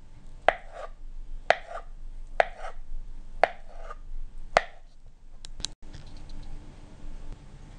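Knife slicing cooled, peeled boiled potatoes into half-centimetre slices on a board: five crisp, evenly spaced cuts about a second apart, then a couple of quicker taps, close and clear with no talk.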